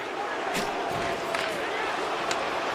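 Home crowd booing in a football video game: a dense, steady wall of crowd noise holds at a constant level throughout, with a few brief louder swells, under what sounds like faint commentary.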